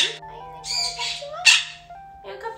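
A parrot squawking and whistling right up close, loud harsh calls mixed with sliding whistled tones, with no one talking.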